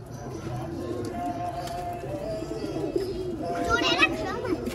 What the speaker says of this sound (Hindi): ये हाथी के कबूतर हैं जी